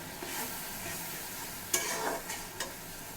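Potatoes tossed into frying spice masala and stirred, a soft sizzle under a few scraping stirs, heard close and fairly quiet.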